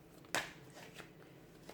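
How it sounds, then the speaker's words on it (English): A single quick riffle of cards being shuffled, followed by a few faint soft taps in a quiet room. "give the cards a shuffle"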